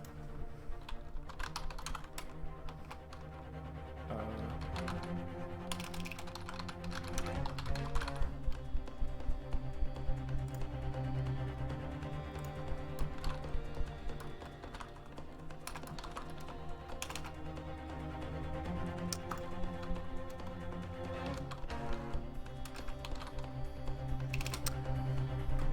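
Rapid keyboard typing on a computer keyboard while switching to a katakana input, steady clattering keystrokes over a continuous musical game soundtrack, no talking.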